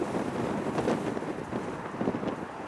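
Gusty wind buffets the microphone outdoors at a plane-spotting spot by Chicago O'Hare, a loud, rumbling roar that swells and eases in uneven surges.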